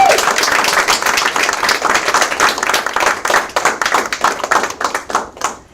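An indoor audience at a panel event applauds with dense, brisk clapping that thins into scattered, slower claps before dying out.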